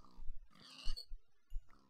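A pig in a survival video game lets out a short series of close, clear grunts and oinks over about two seconds, with no talk.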